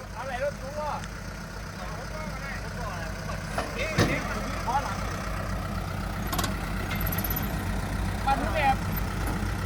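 A farm tractor engine runs steadily with a low, idling rumble that holds throughout, joined by occasional clanks, while voices call out over it.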